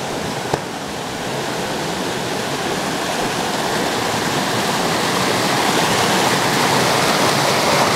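A small creek's flowing water rushes steadily and close by throughout, a continuous broadband wash that swells slightly as someone wades upstream, with one brief splash near the start.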